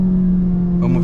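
A Golf GTI tuned to 450 hp is held at 6600 rpm, giving a loud, steady, high-pitched engine drone that shifts slightly near the end of a single brief second.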